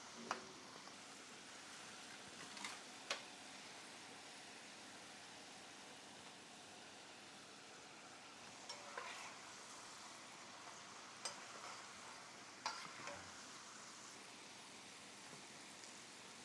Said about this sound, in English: If while you're frying, you realize that your French fries are golden brown too fast, just reduce your heat just a little bit